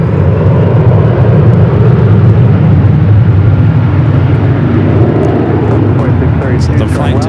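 A Boeing 777-300ER airliner approaches at a busy airport, a loud continuous roar of jet engines that swells steadily throughout, dense and rumbling, with a few faint higher chirps near the end.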